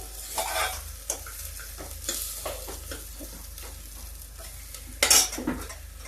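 Onions and urad dal badi fried together with crackled mustard seeds in a pan, giving a continuous sizzle with repeated stirring scrapes and a louder metallic clatter near the end, no voices.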